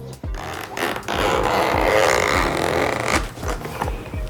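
The zipper on a Fusion case is drawn open in a close, raspy run of ridged buzzing strokes, starting and stopping in a few pulls of varying length.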